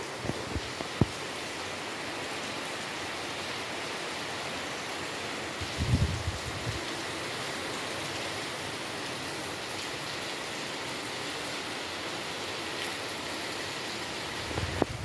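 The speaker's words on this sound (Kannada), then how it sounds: "ಇಲ್ಲಿ ನೋಡ್ರಿ ಹೊರಗೆ ಎಷ್ಟು ಜೋರು ಮಳೆ ಆಗತ್ತೈತಿ" A steady wash of heavy rain with strong wind, heard from indoors in Gokak, India, with a few faint knocks and thumps here and there.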